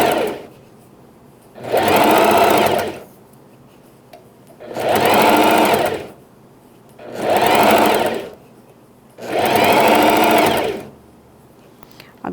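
A sewing machine stitches light pleats into fabric for a pet bandana, running in four distinct bursts of about two seconds each, separated by short pauses, loud and close.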